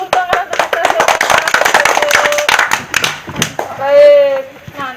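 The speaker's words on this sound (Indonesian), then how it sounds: "Oke, tepuk tangan untuk kita." A crowd claps in a dense burst of applause under a loud voice, followed by a sustained shout or cheer near the end.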